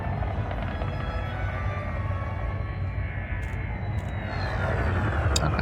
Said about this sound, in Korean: 저는 착륙 허가를 받았고, 제가 착륙할 랜딩 패드가 주어졌고, 자동으로 착륙을 시도를 할 겁니다.